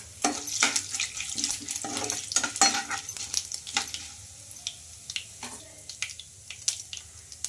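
Cumin, mustard seeds and lentils frying in hot oil for a tempering, with steady crackling sizzle and sharp popping bursts, plus an occasional stirring scrape, close by and without talk.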